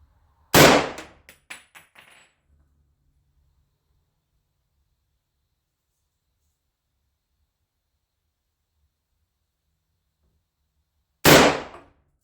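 An M1 Garand rifle fired at pumpkins outdoors: one loud sharp shot followed by a few fading metallic clinks, a long stretch of silence, then a second loud shot.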